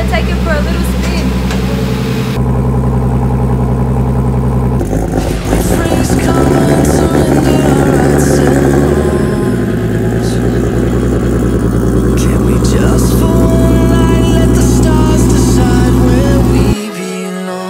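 A V8 car engine out on a test drive hums and rumbles, shifting in pitch as it moves between idle and acceleration, heard from inside the car with people talking over it.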